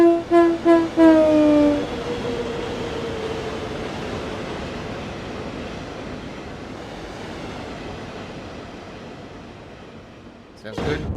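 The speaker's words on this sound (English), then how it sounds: "sometimes the train sounds can be a little bit overpowering on the ear" Train Sim World 3 locomotive sounding its horn in several short blasts and one longer one, then a steady loud rumble of the running train that carries on alone, with a brief rattle near the end.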